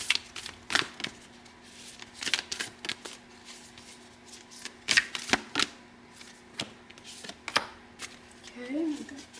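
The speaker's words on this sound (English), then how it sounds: "So I'll get a couple of oracle cards out here." Oracle cards are shuffled and drawn by hand, producing a series of quick, close riffling and slapping bursts separated by brief pauses.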